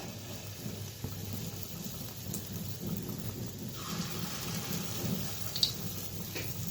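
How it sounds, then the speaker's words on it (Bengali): Gulgula dough balls frying in hot refined oil, a continuous crackling sizzle with small pops, steady and close, with no voices. "তেলটা গরম হয়ে গেছে, তখন গোল গোল করে দিয়ে দিই সব বড়াগুলো।"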